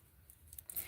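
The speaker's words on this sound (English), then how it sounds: "I'm just going to cut this little piece" Scissors snip a small piece of fabric during doll-clothes sewing, a few faint, quick close cuts over a quiet room.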